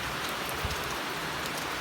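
Steady rain falls on a monsoon day, a dense even hiss of drops on surfaces that continues without pause and with no voices over it.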